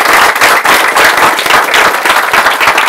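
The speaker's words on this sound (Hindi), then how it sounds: "Let's give a big hand for her." Audience applause at a motivational talk, a dense burst of clapping from a crowd filling the whole stretch, loud and steady without voices.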